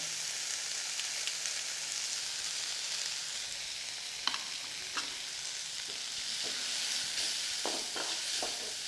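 Onions sauté in a pan with sambar powder for a broad bean poriyal, hissing in a loud, steady sizzle broken by a few sharp clicks of stirring, with no voices.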